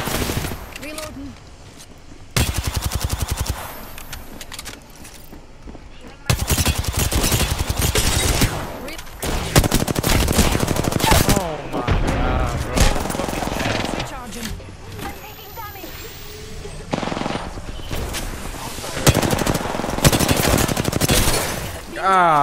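Close, loud automatic gunfire comes in repeated long bursts during an Apex Legends firefight, broken by brief lulls, with voices heard now and then.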